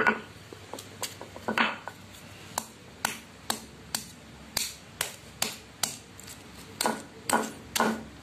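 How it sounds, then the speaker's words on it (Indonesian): Onion or garlic bulbs are crushed by hand for a homemade herbal fertilizer, with a rhythmic series of sharp, close, evenly repeated knocks and thuds, roughly two per second. "Ini aja kita geprek-geprek aja, nggak usah dihalus-halusin."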